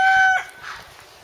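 A hen gives a short, sharp squawking cluck, loud and close, followed by softer low clucking from backyard chickens.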